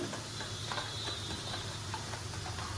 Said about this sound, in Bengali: লঙ্কা দিলাম, এটা এর সাথে মিশিয়ে নিচ্ছি।